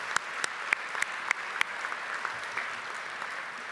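Audience applause at a mining industry conference keynote session, a fairly faint, steady patter of clapping with a few sharper individual claps near the start, fading slightly toward the end.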